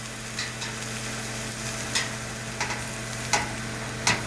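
Steaks grilling on a charcoal grill grate set over an indoor kitchen gas stove give a steady, fairly faint sizzle with a low burner hum beneath and a few sharper pops and spits every second or so.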